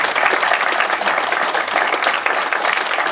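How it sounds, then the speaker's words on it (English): A crowd at a service awards ceremony gives a round of applause, loud, dense clapping that carries steadily from start to finish with no break. "let's give her a round of applause"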